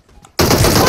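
Machine gun fire in PUBG Mobile bursts in abruptly after a moment of quiet, a loud, close, continuous rattle of rapid shots.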